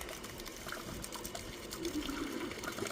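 Water begins running into the empty hose of a 360 Rain sprinkler, a quiet, uneven trickling and gurgling that stays faint and continuous.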